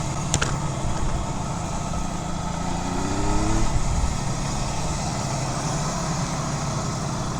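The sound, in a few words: 1975 Kawasaki S1 250 two-stroke triple motorcycle exhaust running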